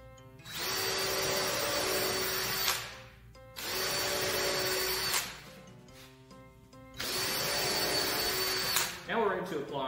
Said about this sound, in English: we're going to use the same drill bit.